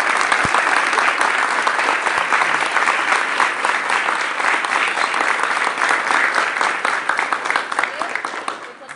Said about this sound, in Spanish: Yo creo que merece un fuerte aplauso él para todos.